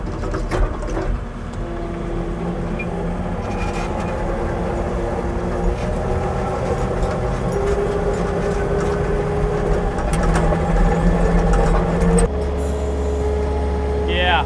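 A Kubota machine digs into hard packed gravel with a 3-inch base, its engine droning steadily and loudly close by, with pitch shifts as it works and a sharper change near the end.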